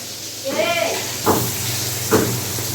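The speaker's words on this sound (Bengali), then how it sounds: "এখানে চলছে বরবটি ভাজা এখানে চলছে পটল ভাজা" Yardlong beans, pointed gourd and potatoes sizzle in hot oil in a home kitchen, a steady hissing fry that swells briefly twice, with a short voice heard near the start.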